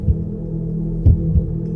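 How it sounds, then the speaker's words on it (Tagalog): A fast heartbeat sound effect throbs over a low hum, a few quick, deep thumps close up with no voices. "Napabilis ang tibok ng puso ko."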